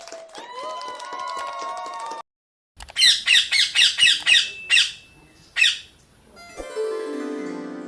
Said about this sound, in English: I am a parrot. I like chilies.